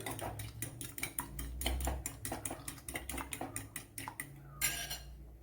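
Eggs with salt and pepper powder beaten in a bowl make a fast, steady run of close metallic clicks as the utensil strikes the sides, continuous and fairly soft with no speech.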